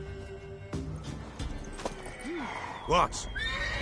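A mare in The Witcher video game gives a short, loud whinny with a rising then falling warble near the end, following soft hoof clops, with a brief spoken voice.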